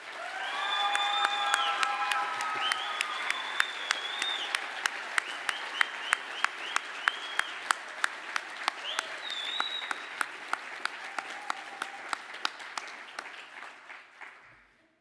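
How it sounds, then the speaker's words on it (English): Sustained audience applause for tourism programme graduates at a graduation ceremony, a dense wash of many hands clapping that swells and holds for most of the stretch before tapering off, with a few whistles or cheers rising above it. "Would all the graduates of the tourism programmes please stand to accept your applause?"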